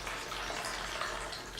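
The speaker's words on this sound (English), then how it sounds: "And pour yourself some cleaner" Suede cleaner liquid splashes as it is poured into a small container, a continuous close watery rush that lasts the whole moment.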